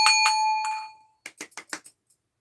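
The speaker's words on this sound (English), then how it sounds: "I feel like I should ring a bell." A handbell rings out with a bright sustained ding, struck twice then once more, followed by a short burst of quick clinking jingles, all loud and close with no talking.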